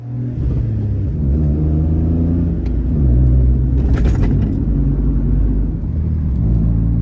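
A Toyota Aygo with an upgraded gear shifter drives along, its small engine giving a loud, steady rumble that rises and falls with revving and gear changes, heard from inside the car with no voices.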